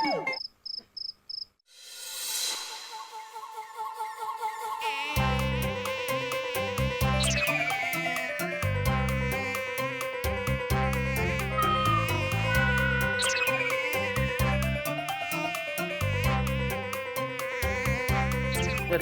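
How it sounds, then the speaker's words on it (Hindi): Mosquitoes whining around a sleeper at night in a Hindi children's animated series, a sustained insect buzz over background music after a few short sounds at the start. "चूस लो मच्छरों, चूस लो, लो पी लो मेरा खून।"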